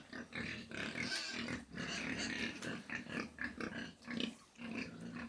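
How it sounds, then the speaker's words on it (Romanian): Pigs fed on cooked rice in a Vietnamese village, grunting and snuffling in low, fairly faint bursts with farm background noise and no talk. "Ăștia sunt porcii hrăniți cu orez."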